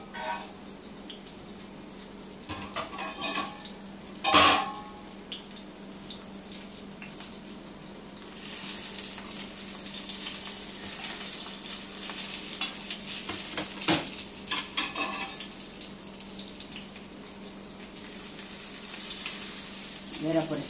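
Stuffed bitter gourd, Maharashtrian style, fries in a pan with a steady low sizzle, interrupted by a couple of sharp scraping stirs of a spatula against the pan.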